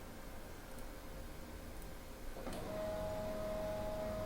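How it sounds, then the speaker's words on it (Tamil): An office printer runs steadily through a print job, its mechanical whir rising and settling into a sustained hum with a few faint clicks, with no talking. "இப்போ பிரிண்டர் ஓடிக்கிட்டு இருக்கு."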